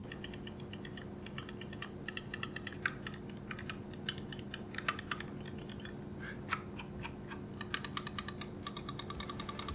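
Rapid, light clicks from a be quiet! Dark Perk mouse with Omron switches, tapped in quick irregular bursts close to a microphone over a faint steady background hum.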